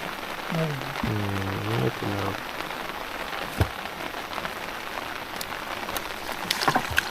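Steady rain patters on a river and an umbrella during net fishing for pārshe fish, a dense close hiss throughout, with a brief stretch of talking near the start and occasional heavier drops.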